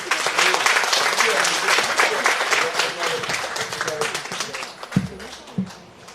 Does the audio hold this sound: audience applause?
yes